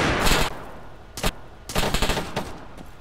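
Gunfire in the video game Arma 3, loud close bursts of rapid shots: a short volley, a single sharp crack, then a longer rattling string of shots.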